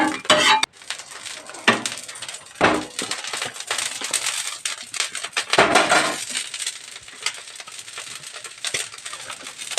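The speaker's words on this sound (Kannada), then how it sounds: "ಇವಾಗ ಸ್ವಲ್ಪ ಎಣ್ಣೆನ ಹಾಕಿ ಸ್ಪ್ರೆಡ್ ಮಾಡ್ತಾ ಇದ್ದೀನಿ" Oil is spread across a hot tawa with a metal utensil, giving sharp scrapes, clinks and clatters in uneven bursts, close and fairly loud, with short quiet gaps between strokes.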